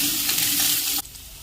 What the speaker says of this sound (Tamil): வெங்காயமும் போட்டுட்டு நல்லா வதக்கிக்கோங்க